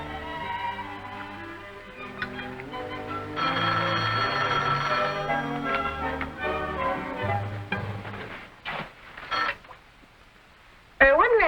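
A home telephone in a 1950s family sitcom rings in repeated bursts over a soft music bed, each ring fairly loud and close, with a brief pause near the end before the ringing resumes.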